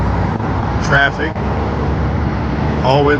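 Steady road traffic rumbles on a hot, humid street, a continuous wash of car and bus engine noise, with a few brief higher sounds briefly rising above it.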